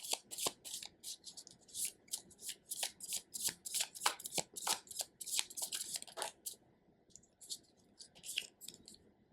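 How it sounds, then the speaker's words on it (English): Tarot cards are shuffled and pulled by hand in rapid, rhythmic riffling bursts, crisp and close, with no voice over them. "Okay, we're gonna pull 2 more cards out."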